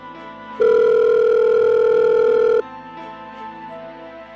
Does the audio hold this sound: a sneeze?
no